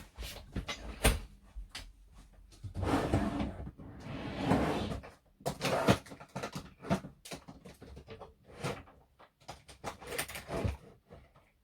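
An Alex storage drawer in a craft room holding ink pads is handled, giving a run of sliding, knocking and rattling bursts, some sharp and close, with short pauses between them and no talking.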